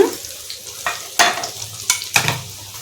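Stuffed bitter gourds fry in a pan with a steady low sizzle, punctuated by several sharp scraping, stirring strokes spaced irregularly across a few seconds, with no voices.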